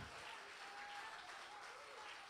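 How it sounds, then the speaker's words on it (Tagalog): A church congregation applauds in praise of God, a faint, even, continuous patter of many hands heard from a distance. "Yung palakpak naman na karapat-dapat sa ating Panginoon"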